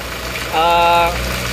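A diesel engine idles with a rough, ticking clatter from the injector pump and nozzles; a brief tonal whine swells in the middle, then fades.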